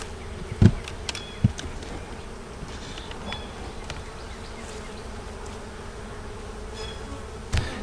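Steady low humming drone of many honey bees buzzing close by at an open hive, with a few faint knocks and no voices.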